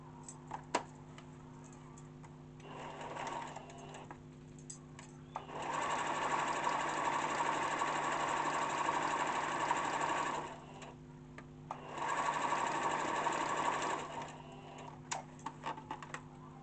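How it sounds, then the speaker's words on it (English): A domestic sewing machine stitches a 1 cm seam allowance in two steady bursts of fast mechanical whirring, with short pauses and faint clicks between runs, close and alone without talk. "I'm going to be stitching my 1 centimeter seam"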